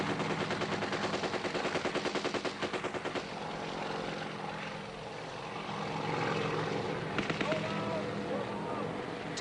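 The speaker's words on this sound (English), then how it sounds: "Our chopper's gunner opens up on the tree line." A helicopter door gunner fires a machine gun at a tree line during a Vietnam War landing, rapid bursts rattling over a constant rotor and engine roar, with scattered voices mixed in.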